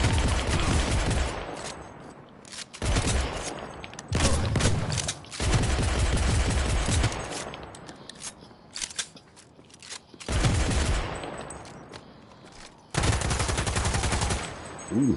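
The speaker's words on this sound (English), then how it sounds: "machine gun is pretty good" Bursts of machine gun fire in the video game Cyberpunk 2077, several loud rapid volleys separated by brief pauses, with a voice speaking faintly between them.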